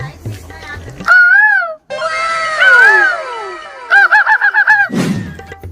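A human voice imitates a koel's call with high, swooping whistled notes, then a quick run of repeated chirps, loud and close.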